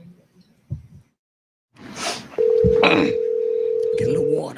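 A steady telephone dial tone hums for about two seconds while a call is being placed, joined by rustling handling noise and brief voices nearby.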